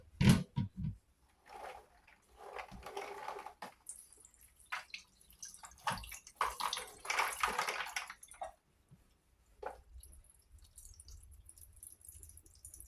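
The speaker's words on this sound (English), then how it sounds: "Just let all that water drain off." Soaked dry beans being drained, with water dripping and trickling off in short irregular bursts, close and fairly quiet, separated by pauses of near silence.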